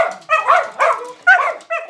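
Dogs about to go for a walk yip and bark excitedly in short, eager bursts, with whiny high notes between barks, close and alone.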